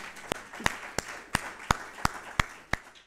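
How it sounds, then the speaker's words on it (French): A few people clap at a ministerial press briefing in Benin, sharp separate handclaps in a slow, uneven rhythm for about three seconds, fairly close, with no voices. "Vraiment, applaudissez-la."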